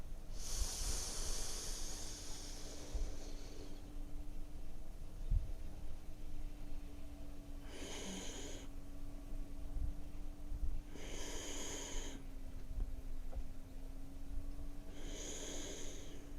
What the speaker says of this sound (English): 1 long inhale, 3 steps on the exhale.